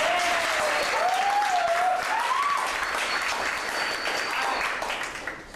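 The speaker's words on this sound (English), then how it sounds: "Can we give them a round of applause" An audience claps for improv performers at a play, steady dense applause that stays loud for several seconds and fades at the end, with a faint whistle or cheer rising through it.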